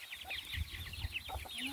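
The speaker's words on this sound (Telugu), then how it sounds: "కోళ్ళు ఈరోజు షాక్ అవుతున్నాయి." Chickens cluck and chatter inside a shed, a busy overlapping stream of close, moderately loud calls with occasional sharper squawks and soft thumps beneath.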